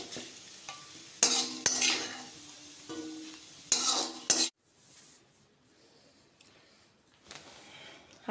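Two sprigs of curry leaves fry in hot oil while soya chunks are being fried, giving loud, crackling bursts of sizzle with utensil clinks, then the sound drops to near-silence with faint stirring.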